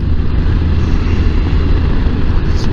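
Heavy headwind buffeting roars loud and steady over a low engine drone while riding a Kawasaki Versys 1000 SE along a single-lane desert road near Oum-Jrane, Morocco, with no talk.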